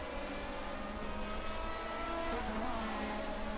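A 1979 race car in a Division 2 round of the ADAC-Hessen-Cup drones steadily at high revs, a continuous faint engine tone heard from a distance with no pauses.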